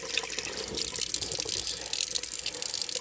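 Water runs steadily from a tap with a bright, hissing splash, continuous and close, while a guinea pig is washed.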